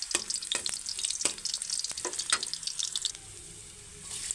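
Ginger sautés in a pan for chicken adobo, a busy close sizzle with repeated scraping stirs in the first part, then settling to a quieter, steady frying hiss.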